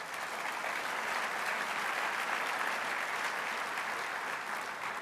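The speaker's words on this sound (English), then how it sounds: "you should give yourself a round of applause for that." An audience applauds at Oklahoma City Mayor Mick Cornett's 2015 State of the City address, with steady, dense clapping from a large crowd that holds at an even level throughout without pause.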